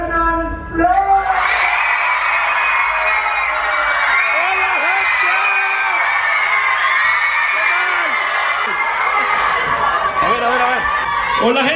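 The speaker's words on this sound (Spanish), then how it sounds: "quiero un fuerte aplauso para Fernanfloo" A large crowd in Mexico roars for Fernanfloo, with loud, sustained cheering, screams and whoops that hold steady for over ten seconds, with chatter mixed in.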